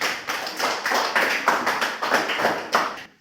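Hands clap in a steady run of about a dozen crisp, evenly spaced claps at close range, stopping abruptly at the end with no talking over them.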